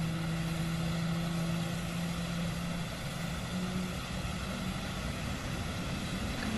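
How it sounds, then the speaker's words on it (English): Jet engines spool up during a cold-and-dark start in the PMDG flight simulator game, a steady loud turbine drone with low rumble and a rising hum held throughout. "Listen to those engines."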